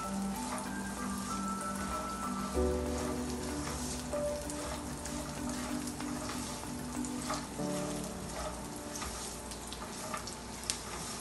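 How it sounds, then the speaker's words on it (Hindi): Chopped nuts, raisins and cranberries frying in a pan, with a continuous close sizzle and light bubbling that holds steady throughout and has soft stirring clicks underneath. "ये हम 30 सेकेंड टू 1 मिनट तक इसको इसी तरह फ्राई करेंगे।"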